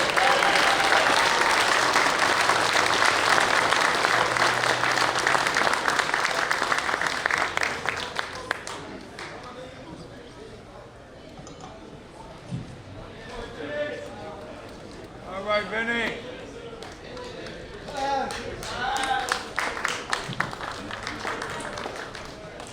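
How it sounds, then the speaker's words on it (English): An audience at an event honoring boxers Roberto Duran and Tim Ryan breaks into loud, dense applause that fades after about eight seconds, followed by scattered claps and someone speaking. "A round of applause"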